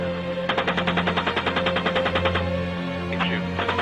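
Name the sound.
gunfire from a helicopter machine gun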